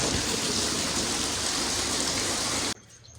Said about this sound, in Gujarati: તમે જોયો ને કેટલો વરસાદ હતો હજી ચાલુ થઈ ગયેલો કન્ટિન્યુ છે